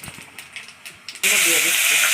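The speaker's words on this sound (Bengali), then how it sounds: "5 ফোড়ন দিয়ে দিচ্ছি।" Panch phoron spices hit hot oil in a pan for a fish-head and pumpkin-leaf chochori, erupting into a sudden loud, steady sizzle after a stretch of quieter kitchen noise.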